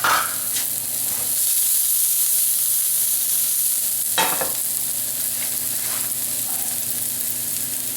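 Fresh garlic sizzles in hot extra virgin olive oil in a pan, a continuous bright frying hiss with a few brief stirring scrapes along the way.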